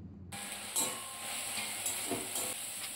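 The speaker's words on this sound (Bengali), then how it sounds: "এরপর আবারও মশলাগুলোকে কিছুক্ষণ ভালো করে কষিয়ে নেব।" Spices stir-fry in a pan for a jackfruit curry, starting after a brief silence as a soft, steady hiss with a few light scraping stirs, fairly quiet and close with no voices.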